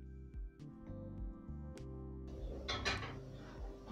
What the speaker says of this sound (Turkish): Biraz karıştırıp ocağa alıyorum.